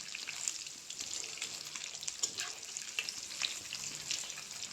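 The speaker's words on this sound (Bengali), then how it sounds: "এই যে এরকমভাবে লাল লাল করে মাংসগুলো ভাজি করতে হবে।" Meat pieces fry in a pan with a continuous bright sizzle and scattered pops and crackles, close and steady throughout.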